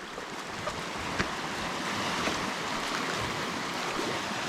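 Sea waves washing steadily onto a hot beach at Rawis, a continuous broadband wash of surf with some wind noise on the microphone and no talking.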